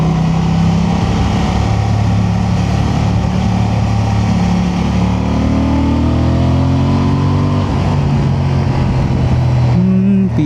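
A Honda Transalp motorcycle engine pulls hard in standard mode, its loud, steady drone rising in pitch as it accelerates, mixed with strong wind rush throughout.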